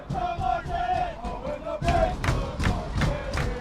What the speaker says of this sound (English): Crowd continues to be lively in the later stages of this match